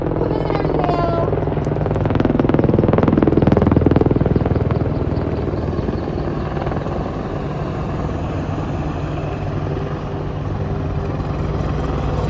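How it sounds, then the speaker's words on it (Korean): An Apache attack helicopter's rotor thumps and engine roars steadily, loud and broad, at a military expo demonstration, with a crowd murmuring faintly under it. "지금 보시는 아파치는 세계 최고의 공격 헬기로"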